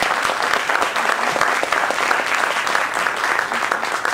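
A room full of people gives a steady, sustained round of applause for Margarita Berry, dense and even throughout with no letup.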